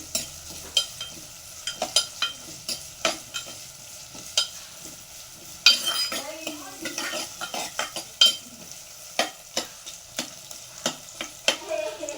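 Onions frying with a pinch of salt in a pan, a quiet sizzle punctuated by frequent sharp clinks and scrapes of a spatula against the pan, close and irregular, with no one talking.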